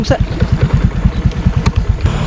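A broken-down motorcycle engine chugs in a steady, fast low throb close by, loud and continuous, with a voice briefly heard at the start.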